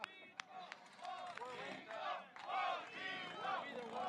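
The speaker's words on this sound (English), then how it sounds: "the crowd is chanting Bochito. Viva Bochito." Crowd chanting a rider's name at SCORE Baja 1000 contingency day, with a roaring mass of voices swelling in rhythmic bursts, cheers and shouts layered over a steady hubbub.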